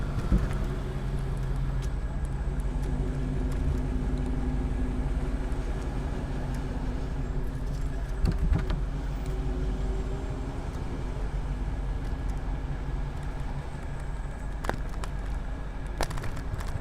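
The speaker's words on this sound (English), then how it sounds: "I never imagined there'd be this much traffic on the local streets here." Street traffic in Miami rumbles steadily on local streets with a constant low roar of passing cars and buses and occasional sharper clatters and bangs. The scene is heard from the sidewalk, fairly loud and continuous, with no clear talking.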